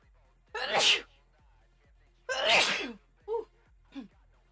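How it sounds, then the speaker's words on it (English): Two loud sneezes, a couple of seconds apart, followed by two short softer sniffs or breaths, close to the microphone. "I have to sneeze."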